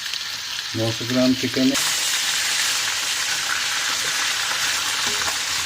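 Chicken, 900 grams, hits hot oil in a pan for turnip chicken curry, bursting into a loud, broad sizzle that stays steady and bright throughout, with someone talking briefly at the start.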